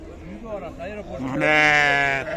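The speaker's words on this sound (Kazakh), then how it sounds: "Бұл қозылар қаға кетті ата?" Lambs at the Sokuluk livestock bazaar let out one loud, drawn-out quavering bleat close by, following a stretch of people talking nearby amid the busy market.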